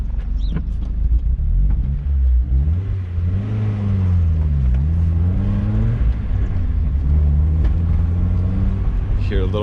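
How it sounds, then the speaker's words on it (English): A Mazda Miata engine with a stalling fault pulls hard in second gear, its rumbling note rising and falling, with a couple of sharp backfire pops near the start and end. "Hear a little backfire there"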